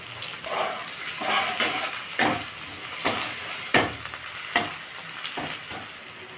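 Chopped onion fries in oil with panch phoron, a close steady sizzle punctuated by rhythmic stirring scrapes of a spoon against the pan, and no one speaks.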